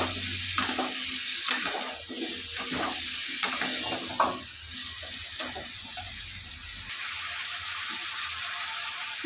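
Vigorous sizzling with repeated scraping stirs as pumpkin pieces fry in a pan, several strokes in the first half, then the frying continues more evenly and quieter.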